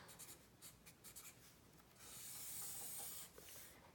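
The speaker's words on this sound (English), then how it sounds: "I'm going to write the month," A pen writes a weather data table by hand, with short scratchy strokes for about two seconds, then a longer continuous rubbing stroke, quiet and close with no talk.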